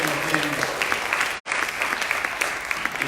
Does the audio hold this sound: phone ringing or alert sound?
no